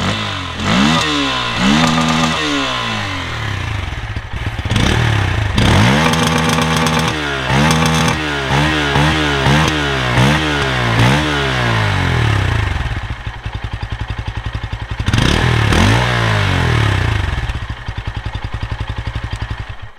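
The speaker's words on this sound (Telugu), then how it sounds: "లేట్ చేయకుండా మనం 2024 N160 ఎగ్జాస్ట్ నోట్ విని రైడ్ చేద్దాం." A 2024 Bajaj Pulsar N160 motorcycle's exhaust note comes through as repeated sharp throttle blips and revs rising and falling from a steady idle, loud and close, with no talking.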